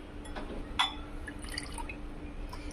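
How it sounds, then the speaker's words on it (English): Heated water phase poured into the oil phase while making homemade herbal hair shampoo, heard as soft liquid splashes and drips, with one brighter splash near the start, over low background noise. "now we'll go ahead and add our water phase into our oil phase"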